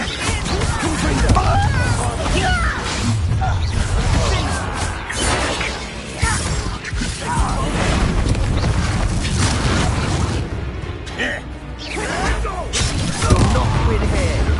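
Blasting Confringo spell explosions and crashing combat effects from the game Hogwarts Legacy, dense and loud throughout a chaotic magical battle, with people shouting over the din.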